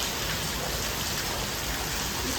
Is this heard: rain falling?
yes